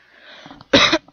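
A single sharp cough from a person with a cold, loud and close after a faint breathy lead-in.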